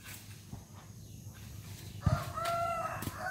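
A rooster crows loudly and nearby at a rural home during a rambutan harvest, one drawn-out cock-a-doodle-doo rising over soft background rustling and a thump.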